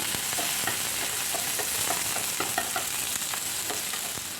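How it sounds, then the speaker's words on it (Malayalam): Sliced shallots sauté in hot coconut oil with popped mustard seeds, producing a continuous close sizzle broken by soft, irregular stirring scrapes and ticks in the pan. "ഇതിലേക്ക് നമുക്ക് ഒരു നാലഞ്ച് ചുവന്നുള്ളി നീളത്തിൽ അരിഞ്ഞതിട്ട് കൊടുക്കാം ഒന്ന് വഴറ്റിയെടുക്കാം"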